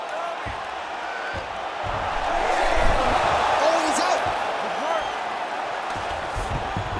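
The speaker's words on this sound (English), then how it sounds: "crowd absolutely loving it" An arena crowd in the UFC 5 fighting game roars and cheers in a steady wash that swells in the middle and then settles, heard under a commentator's voice.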